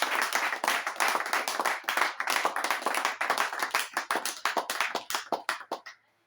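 A small group claps steadily for several seconds, the rapid hand claps close and even before fading out abruptly at the end.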